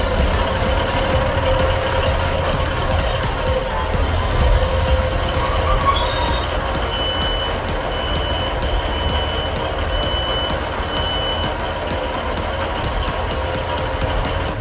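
A SkyLine Class 156 train in the video game British Railway rolls past with a loud, steady rumble, wheel squeal and high tonal whines, and no voices over it.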